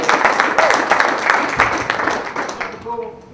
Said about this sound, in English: Let's give them a round of applause for putting it together today.